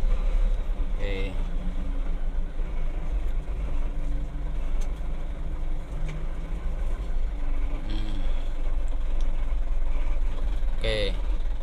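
Manual car engine running while driving through a bend and shifting down from fourth to third gear, a steady low hum under someone talking throughout.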